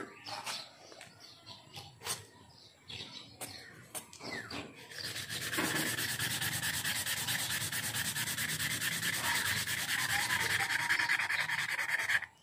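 Hand sanding scratches rhythmically and continuously in the second half, after scattered taps and rustling; fairly quiet and close, with no talking.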